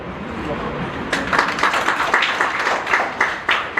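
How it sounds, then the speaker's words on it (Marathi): Audience clapping at a Marathi school awards ceremony honouring gifted students, headmasters and mathematics teachers, starting after a second and continuing as a steady, moderately loud round of applause, with a voice speaking over it. "टाळ्या वाजवल्या तुम्ही"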